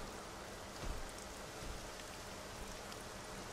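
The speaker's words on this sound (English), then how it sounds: "And it's raining." Steady, dense rainfall in the gothic action game Castlevania: Lords of Shadow, an even hiss of falling rain with no pauses or talk.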